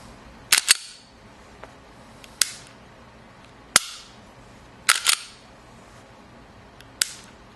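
A Glock 42 pistol's trigger is pressed and reset repeatedly, giving sharp, close, dry clicks: a quick double click, then single snaps spaced a second or more apart, another double, and a final click, with no talking.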